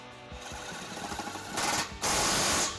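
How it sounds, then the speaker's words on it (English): A socket wrench ratcheting to tighten trailer hitch bolts on a 2013 Dodge Grand Caravan, a quick rapid clicking burst followed by louder sustained mechanical rattling, close and fairly loud. "we're going to use the 15 millimeter to tighten this bolt up"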